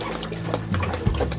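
Water poured over a Marine heat injury victim, a short burst of splashing and gushing liquid, close and fairly loud, about a second and a half long.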